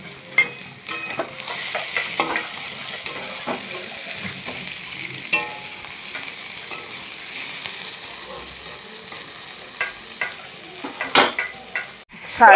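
Vegetables with chopped chilli fry in a pan for bottle gourd greens, a steady close sizzle broken by repeated scraping and clinking stirs of the utensil, with no talking.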